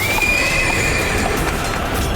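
A horse whinnies loudly and close in a dramatized battle scene, its long neigh riding over dense, noisy background rumble with faint hoof clatter and no speech.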